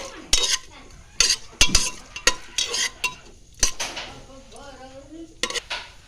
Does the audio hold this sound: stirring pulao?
yes